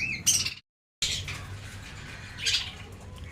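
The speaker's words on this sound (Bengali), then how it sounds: "দেখতে পাচ্ছ আমার এই বদ্রি পাখির কলোনি" A colony of budgerigars chirps while feeding, giving short, faint tweets near the start and again later, with a brief full silence in between. No voices are heard.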